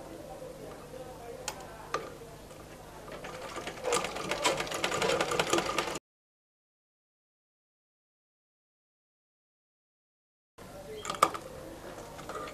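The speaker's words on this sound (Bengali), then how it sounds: "আমি সাইডে এবার সেলাইটা করব।" A sewing machine stitches along the side seam of a garment neckline, a busy mechanical whir with ticking clicks that grows louder, cuts to silence partway, then resumes briefly.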